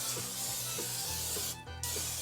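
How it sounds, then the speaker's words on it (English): Cooking spray hisses onto a 9-inch pie pan in a continuous broadband spray lasting about a second and a half, close and fairly quiet, over a low background hum. "spray it with cooking spray"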